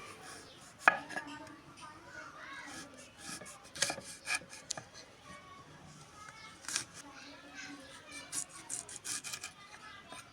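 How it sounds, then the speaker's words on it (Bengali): A knife cuts through lemons on a board, a handful of soft irregular chops and scrapes scattered among quiet kitchen clatter, fairly faint and close. "এখন লেবু কাটা হচ্ছে।"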